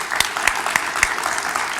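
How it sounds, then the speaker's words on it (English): Loud, close applause from a group, with a few sharper claps standing out from the steady clapping. "Let's give a round of applause, Denise."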